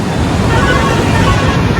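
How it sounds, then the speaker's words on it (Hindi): Strong wind at Haridwar roars as steady, loud broadband buffeting across the microphone, continuous for the whole short stretch with no speech. "हवा चल रही है तेज"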